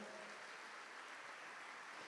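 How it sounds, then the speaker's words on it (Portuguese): A church congregation at a Canção Nova Rebanhão gathering applauds together, a steady dense wash of many hands clapping that fills the space evenly from start to finish, with no voices standing out. "Vamos aplaudir a palavra do Senhor."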